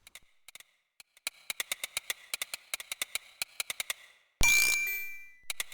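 Bell-like ding tones from the Space Quest 6 adventure game ring out in a rapid irregular series of bright chimes, followed near the end by a sudden loud burst of broadband noise.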